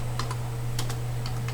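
Quick clicks of typing on a computer keyboard, a few short bursts of keystrokes over a steady electrical hum, close and clear.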